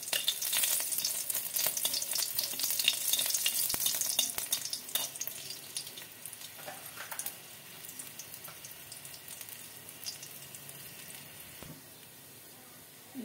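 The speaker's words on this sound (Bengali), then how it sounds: "এবার আমি ফোড়ন দিয়ে দেবো।" Garlic and a dry chili sizzle in mustard oil for a dal tempering. A loud crackling hiss at the start gradually softens, with faint watery clatter and occasional knocks.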